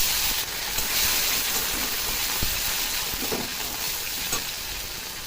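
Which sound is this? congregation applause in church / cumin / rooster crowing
cumin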